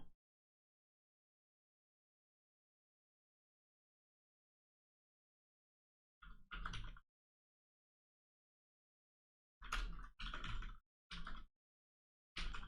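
Typing on a computer keyboard in short separate bursts of quick clicking keystrokes, close and moderately loud, with long silent gaps between them.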